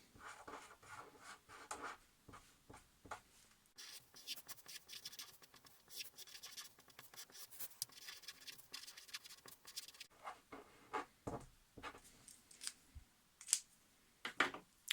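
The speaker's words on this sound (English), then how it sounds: "I'm going to go over it with a black marker just so that it's clear" Black marker tracing over an embroidery design drawn on paper, a series of quick scratchy squeaking strokes with irregular pauses, close and fairly quiet.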